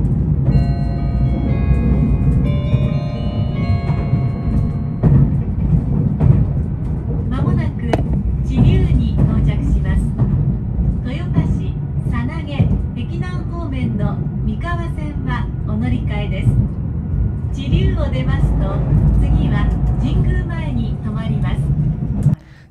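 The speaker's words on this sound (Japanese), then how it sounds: "停車時間わずかで東岡崎駅を発車。" A Meitetsu express train runs after pulling out of Higashi-Okazaki station, giving a steady, rumbling low roll with rhythmic clatter throughout. A voice speaks over the continuous running noise.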